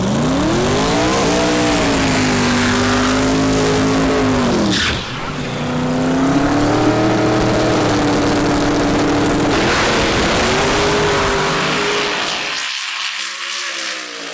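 A drag race car at Sick Week accelerates hard on a pass, its engine howling loud and close with rising pitch sweeps through several gear changes, a sharp break midway, then cutting off abruptly near the end.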